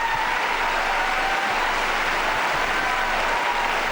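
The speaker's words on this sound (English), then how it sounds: "the Americans leading the applause" An arena audience at a 2007 world figure skating ice dance event, an original dance tango, gives sustained, dense applause that stays loud and even throughout, with no voices standing out.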